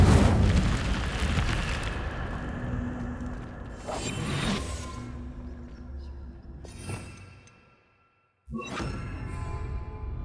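An Incendio fire spell cast in Hogwarts Legacy erupts with a loud whooshing burst that fades, followed by further softer magical flares and a brief silence before another burst.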